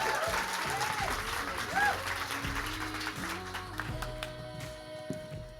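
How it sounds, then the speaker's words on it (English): An audience applauds a guest speaker at a fireside chat, with clapping and speech mixed together. "everybody give a round of applause for Aretha Lewin Antoine."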